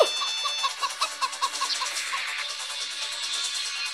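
Rapid, rhythmic chicken clucks from a hen in a Roblox game repeat steadily over a bright, busy electronic background, with a soft game-like tone underneath.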